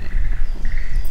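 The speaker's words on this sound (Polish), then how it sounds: "Tu jest takie źródełko błotniste i żaby tam bardzo intensywnie pukają." Frogs croak intensely at a muddy spring in the mountains above Kobe, Osaka and Kyoto in Japan, a dense, steady chorus of rapid knocking calls heard up close for a moment.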